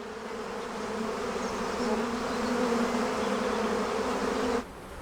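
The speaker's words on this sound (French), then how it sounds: "Les abeilles de montagne bénéficient de bonnes conditions de vie." Mountain honey bees swarm from a hive in the Cantabrian Mountains, giving a dense, steady buzzing hum that holds evenly and then drops off abruptly near the end.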